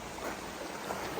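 A forest creek flows steadily with a constant close wash of rushing water and faint babbling, with no voices.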